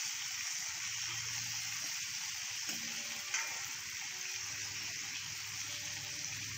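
Stuffed okra (bharwa bhindi) frying in a pan over a medium gas flame, giving a steady, even sizzle close by, with faint clinks of the okra being turned.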